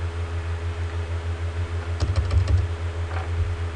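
A brief burst of computer keyboard typing, a quick cluster of clicks in the middle of the clip over a steady low mechanical hum.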